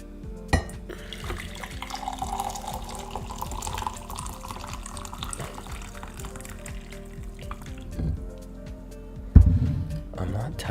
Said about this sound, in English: I'm actually gonna pour myself some tea